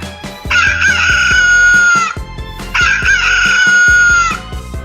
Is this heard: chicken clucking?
yes